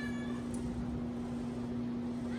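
Kitten on a cat adoption floor meows insistently, a few drawn-out cries heard close against a constant electrical hum in the room.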